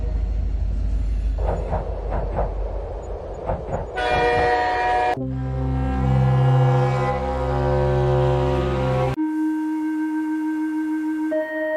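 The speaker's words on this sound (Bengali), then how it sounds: "ও ট্রেনে হয়ে অফিসে চলে যায়।" A cartoon train rumbles along with rhythmic clacking, then sounds long, loud, sustained horn blasts in separate bursts, each a different steady chord; no talking.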